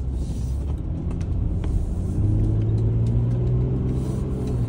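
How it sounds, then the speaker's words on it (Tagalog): A driverless Waymo car passes along a city street with a steady, close engine and tyre rumble that swells slightly midway, set against continuous traffic noise. "Oh, tingnan ninyo, walang driver yung Waymo."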